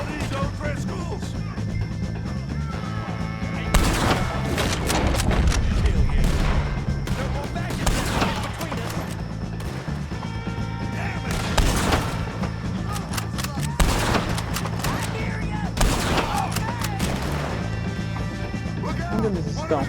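Red Dead Redemption 2 gunfire: bursts of shots at O'Driscoll gang members and heavy impacts over a dense, loud mix with music and talk running throughout.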